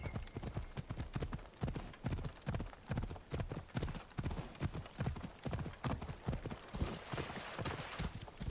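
Galloping horse hooves in Assassin's Creed Odyssey, a fast, loud, steady clip-clop rhythm that runs the whole way through with no pause.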